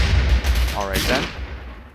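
Gunfire in the video game Rimworld, a burst of heavy rifle and pistol shots sounding as a dense clattering blast over a low rumble, with a voice talking briefly.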